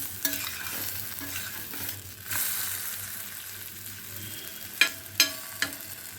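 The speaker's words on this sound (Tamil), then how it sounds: "இப்போ இது ஒரு சைடு வேகட்டும்" A radish chapati cooks on a hot pan with a steady soft sizzle, broken by a few sharp taps and scrapes near the end, close and fairly quiet.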